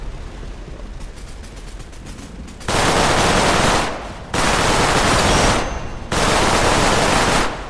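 Submachine gun with a Tommy stock fired in a video game: three long, loud, sustained automatic bursts of about one to two seconds each, close by, split by short pauses, with quieter mechanical clicking before the first burst.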